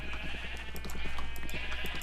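Sheep bleating in the video game Minecraft, a run of short repeated bleats over steady game background noise, moderately loud and close.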